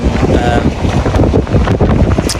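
Strong wind blows outdoors during a road trip along Scotland's NC 500 route, a loud, continuous roaring rumble that buffets the microphone throughout with no let-up.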